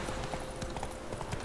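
Horse hooves gallop in the Witcher 3 video game, a rapid, quiet clip-clop rhythm over a steady noisy game soundscape, with no speech.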